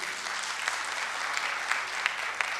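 Audience applause at a governance conference plenary session: sustained, even clapping from a hall full of people, with individual claps standing out now and then.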